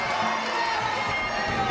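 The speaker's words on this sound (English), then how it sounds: "And the crowd loving it." A Muaythai fight crowd roars and cheers steadily throughout, a dense continuous wash of voices at a constant loud level.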